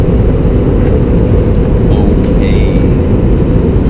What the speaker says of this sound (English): it's loud as hell here, but I'm on a plane leaving Newark, going back to West Palm for work